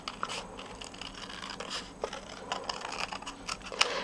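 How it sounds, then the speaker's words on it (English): Small craft snips cut out a stamped paper lemon slice, producing quiet, close scratchy snipping and rustling sounds that come in uneven little cuts. "I'm going to take my snips and I'm just going to fussy cut it out."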